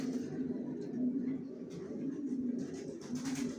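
Young grizzle racer pigeon squabs, original Janssen-line birds in a loft, cooing in a low, steady, repeated murmur close by, with faint rustling and distant background noise.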